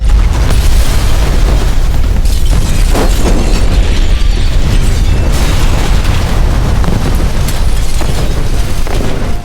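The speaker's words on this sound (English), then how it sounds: "After a powerful explosion" A massive, sustained landmine explosion roaring with rumbling low end and crackling debris, loud throughout without any pause.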